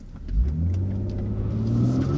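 A BMW M140i hot hatch engine revs up hard under acceleration, a loud, close, rising mid-pitched drone that swells and holds steady with no voices over it.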